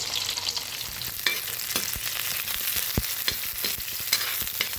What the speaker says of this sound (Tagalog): Gigisa muna natin guys para maluto yung talong.